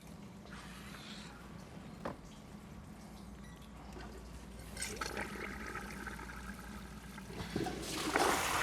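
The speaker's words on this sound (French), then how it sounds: "la petite chasse d'eau est souvent insuffisante" A dual-button toilet runs a short, small-volume flush, a steady rushing of water into the bowl that swells into a louder gurgling surge near the end, heard up close with no voices.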